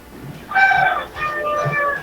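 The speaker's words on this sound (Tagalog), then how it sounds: "Ano yung mga manok na nagtitilaok sa'yo?" Roosters crowing at the house next door, two drawn-out harmonic calls one after the other, fairly loud and clear with no talking over them.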